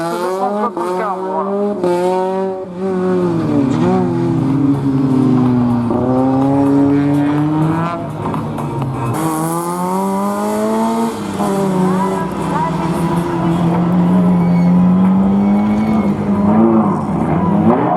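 A race car on a slalom course at Lessay pushes through repeated revving runs with shifting engine pitch and tire squeal, loud and close, while a French commentator talks over it.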